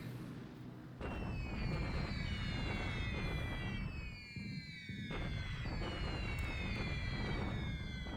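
Bombers strike in the first wave of a WWII Pacific strategy game, with falling whistle tones sweeping down over a dense, continuous rumble of explosions that carries on loudly throughout, without speech.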